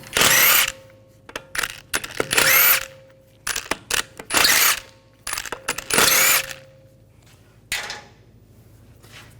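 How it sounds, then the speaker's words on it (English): Lug bolts come off a 2011-2018 Volkswagen Jetta front wheel with a 17mm socket on a power tool, in repeated loud whirring bursts separated by short pauses and small metallic clinks. "Now we're going to remove the lug bolts."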